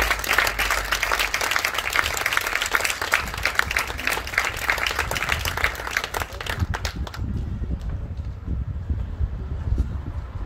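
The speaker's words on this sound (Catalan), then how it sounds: "Un fort aplaudiment." A crowd at a Catalan town festival proclamation gives outdoor applause, dense clapping that thins to scattered claps as it winds down, with some wind noise underneath.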